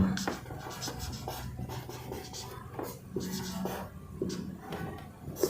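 Handwriting on paper during a Santali-Bangla grammar lesson, scratchy pen strokes in short irregular bursts with pauses between, close and fairly clear, a voice speaking softly at moments.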